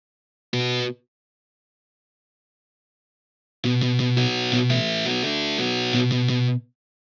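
Distorted electric guitar: one short muted chord stab, a few seconds of silence, then a sequence of longer, ringing distorted notes and chords.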